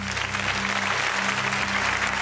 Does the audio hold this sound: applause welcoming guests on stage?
yes